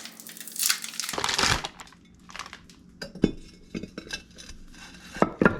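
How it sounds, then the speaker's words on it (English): Plastic packaging around a beef roast crinkles and tears open in a kitchen, a loud ripping burst followed by scattered crumpling, rustles and light clinks, close up with no talking. "Going to open our roast up and get it in there."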